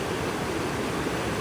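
Water rushes steadily over rocks in a mossy natural setting, a dense, close, continuous wash of flowing sound with no voices.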